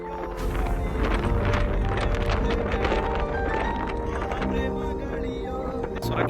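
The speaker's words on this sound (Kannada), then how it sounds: "ಸುಂಟರ ಗಾಳಿ" Strong whirlwind gusting across the Little Sahara sand dunes on Kangaroo Island, a loud, continuous buffeting rush of wind with rattling and flapping close by.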